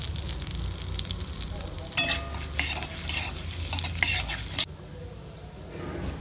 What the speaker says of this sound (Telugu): కొద్దిగా ఆవాలు, అలాగే కొద్దిగా జీలకర్ర, అలాగే కొద్దిగా మినప్పప్పు, 4 ముక్కల ఎండుమిరపకాయలు, ఇవి కొద్దిగా వేయించుకోవాలి